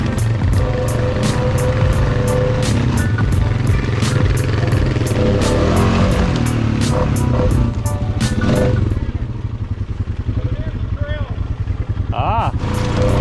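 Loud, continuous engine drone from four-wheeler ATVs riding at night through flooded, marsh-like land near a railroad yard, close by and steady, easing somewhat toward the end.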